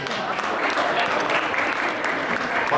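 Audience applause fills a Tamil patti mandram debate hall at an annual meet, a dense, steady clapping from a seated crowd that holds at an even loudness for the whole stretch.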